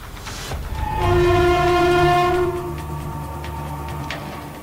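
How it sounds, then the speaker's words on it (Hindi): The Nilanchal Express, a passenger train, slows into platform 4 at Tatanagar railway station, sounding a long, loud, steady horn over the rumble of the carriages, then running on quieter. "टाटानगर रेलवे स्टेशन के प्लेटफॉर्म नंबर 4 पर नीलांचल एक्सप्रेस धीरे धीरे धीमी पड़ रही है।"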